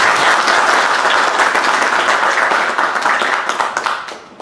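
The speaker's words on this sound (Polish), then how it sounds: "Proszę o brawa." Loud, dense audience applause in a hall at a political meeting welcoming party leader Jarosław Gowin, steady for several seconds before thinning into scattered claps at the end.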